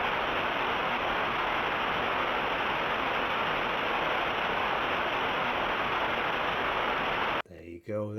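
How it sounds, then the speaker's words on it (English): A flowing river rushes in a constant, broad hiss for about seven seconds, played for tinnitus relief, before a voice begins speaking at the very end. "Number 4 is a flowing river, which sounds like this."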